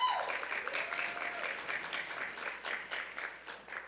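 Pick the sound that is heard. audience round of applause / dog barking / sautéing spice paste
audience round of applause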